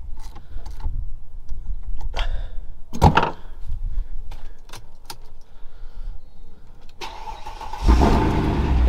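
Keys jangle and clunk near the start, then a Mercedes C63 engine cranks on a recharged battery and catches around the end, settling into a loud rumble.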